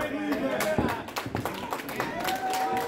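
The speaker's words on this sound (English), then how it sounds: "Got a polite applause here from the fans in Nanton for that display of power from Sebastian" Wrestling fans in Nanton give light, scattered applause. The sparse claps sound at a moderate distance beneath a voice that talks over them.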